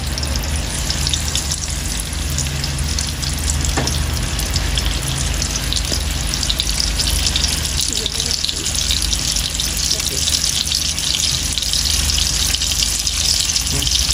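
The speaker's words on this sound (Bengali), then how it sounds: "এই মাছ দেওয়া হইতেছে তেলের মধ্যে" Fish frying in hot oil in a home kitchen, to be cooked with bottle gourd leaves, gives a loud, steady, dense sizzle that runs unbroken from start to end, with a voice now and then underneath.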